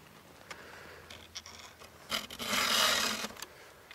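A 3/8 saw chain from a mini sawmill being sharpened with a round file: a few faint scraping strokes, then one longer, louder rasping pass, heard close with no talking.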